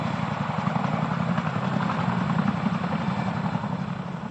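A CH-47 Chinook military helicopter roars steadily at close range, its dense, continuous rotor and turbine drone holding an even loudness throughout with no voices over it.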